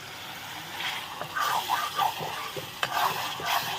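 Mutton and masala being stirred and fried over a wood-fired stove, with a soft continuous sizzle beneath intermittent scraping strokes of the spoon close by.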